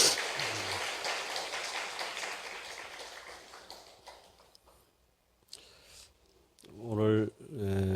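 Church congregation applauding during a Sunday worship service for a retired visiting pastor, a dense, steady clapping that fades out over several seconds, followed by a brief voice near the end.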